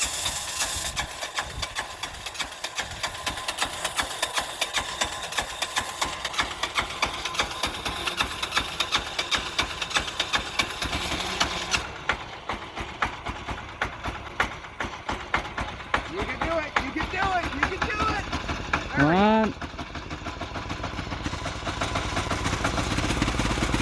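A 6HP 178F single-cylinder diesel engine chugs steadily after a cold winter start, a continuous close mechanical drone running throughout, with a brief whistling or squeaking sound near the end.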